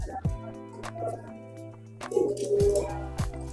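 A pigeon gives several short, low cooing calls in a quiet setting, spaced out with brief gaps between them.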